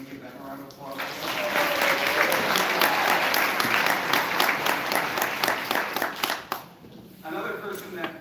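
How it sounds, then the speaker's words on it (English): An audience at a history teaching summit gives the AV crew sustained applause, a dense wash of many hands clapping for several seconds before thinning out, with faint voices at the start and end. "can we give them a round of applause?"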